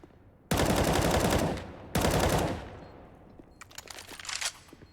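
AK rifle fire in the video game CS:GO: two long, loud automatic bursts in quick succession, then a scatter of lighter, quicker shots near the end.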